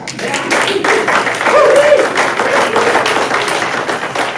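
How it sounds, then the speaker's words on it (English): A hypnosis stage show audience claps and cheers loudly, a sustained wash of hand claps with voices rising through it, steady from start to finish. "all of the clapping and cheering is for you tonight"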